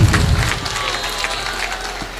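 A crowd at a mushaira poetry recital claps in a loud burst of applause that quickly tapers to a softer, steady patter.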